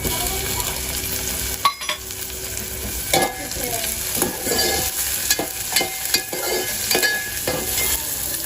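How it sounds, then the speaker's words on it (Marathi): Chopped onion and tomato with curry leaves sizzle steadily in a pan while a spoon stirs and scrapes against the metal with occasional clinks, close and continuous. "कांदा टोमॅटो आपला परतलेला आहे"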